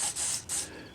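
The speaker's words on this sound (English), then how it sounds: "I give it a spritz with ballistol, just spray oil, pure ballistol" Short hissing spritzes of Ballistol spray oil hit the action of a Cimarron Model P revolver in .44 Special, two or three quick bursts close to the mic.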